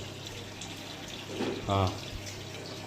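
Water pours from a pipe into an air cooler's tank with a soft, steady trickle, close but quiet, while a voice speaks briefly.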